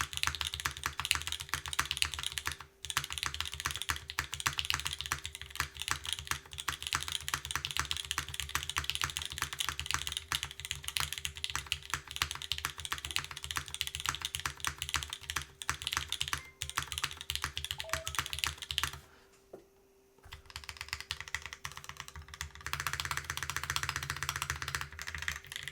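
Fast, continuous typing on a Dolch TKL mechanical keyboard produces close, crisp key clacks in a dense rhythm. A brief pause comes near the twenty-second mark, then the typing resumes.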